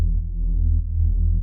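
A distorted synth bass in a reggaeton beat pulses with a wobbling, moving distortion effect, a buzzy low tone that cuts and restarts in short repeated sections.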